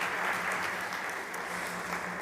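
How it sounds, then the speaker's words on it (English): Brief burst of audience applause at a startup conference stage, a steady wash of clapping for about two seconds, moderately distant and even. "Big applause to Chris."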